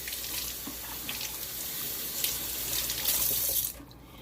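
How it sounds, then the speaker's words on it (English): A kitchen faucet runs steadily into the sink while vegetables with their ends chopped off are rinsed under the stream, a continuous close hiss with slight splashing that stops abruptly near the end. "rinse them really well"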